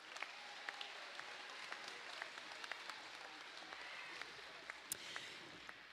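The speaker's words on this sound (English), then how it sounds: "Please give all these students a round of applause." Audience applause for students at a secondary school awards and graduation ceremony, a steady, even wash of many hands clapping at a moderate distance, fairly soft, with scattered sharper claps and no talking over it.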